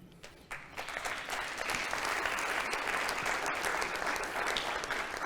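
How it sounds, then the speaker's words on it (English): An audience at a school district State of the District address breaks into sustained applause, dense clapping swelling quickly and holding steady and fairly loud throughout. "I'm glad you clapped"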